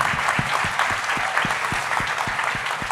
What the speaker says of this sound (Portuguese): já bateram palmas